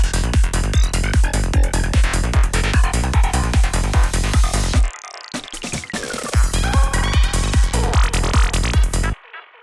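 A drum roll transition in a dance track: a loud four-on-the-floor kick pattern pounds steadily, breaks into a sweeping, stuttering roll with a descending sweep around the middle, then the driving beat returns before stopping.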